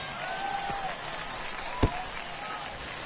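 Baseball stadium crowd in the ninth inning makes a moderate, steady murmur with scattered shouts and a sharp single thump midway, while a commentator talks over it.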